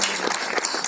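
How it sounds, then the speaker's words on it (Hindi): A short burst of steady audience clapping at a film trailer launch press meet, close and continuous throughout. "जोरदार तालियां"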